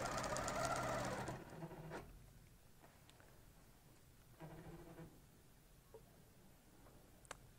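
A longarm quilting machine stitching along a ruler on curves gives a fast, rhythmic mechanical whir in short runs with pauses, fairly close but not loud.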